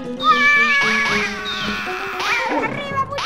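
A cartoon cat meows in the Paper Mario video game, with several loud, clear, rising and falling meows in quick succession, each close and alone with no talking.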